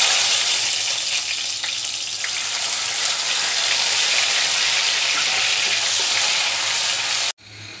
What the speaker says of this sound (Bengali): এই তো পেঁয়াজটা হালকা ভাজা হয়ে এসেছে